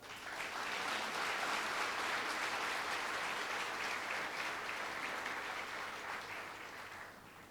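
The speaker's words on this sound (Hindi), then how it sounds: "जो काम गुरुदेव ने कर दिया उसके अनुसार ताली तो बजा दो।" Sustained applause from a large audience at a Jain religious gathering at Shri Manilakshmi Dham in Ludhiana, with steady, dense clapping that fills the whole stretch and fades slightly toward the end.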